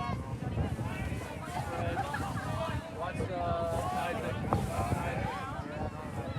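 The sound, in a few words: wind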